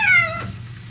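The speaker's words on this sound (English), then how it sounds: "a little frightened kitten was sitting there" A small, frightened kitten gives a single high, wavering meow that trails off, close and clear, followed by quiet.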